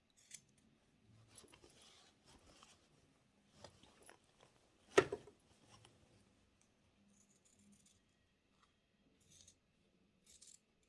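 Scissors snipping off excess fabric, quiet scattered cuts with one sharper snip near the middle and long stretches of near silence between.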